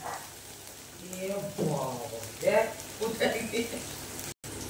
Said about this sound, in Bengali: বন্ধুরা, এবার দিয়ে সয়াবিনটা দিয়ে কষে নেব।